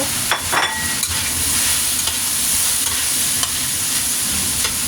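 Chicken thighs and potato sizzle in a pan with a loud, steady hiss, a couple of sharp scraping stirs near the start, and no voices.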